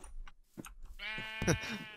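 A Minecraft sheep bleats once, a clear wavering bleat after a few soft scattered sounds, heard alone within a game session.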